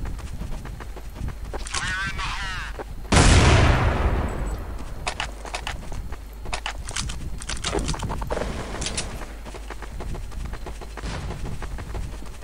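Gunfire in Counter-Strike 1.6, a loud close blast followed by scattered shots and clicks, with people talking over the game sounds.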